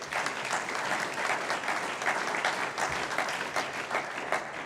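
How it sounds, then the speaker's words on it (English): A dense, sustained round of audience applause at a small business awards ceremony in Carroll County, honouring award winners. Steady and continuous, with no speech over it. "How about a round of applause for them?"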